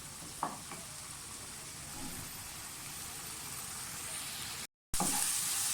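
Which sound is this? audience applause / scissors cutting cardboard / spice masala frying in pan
spice masala frying in pan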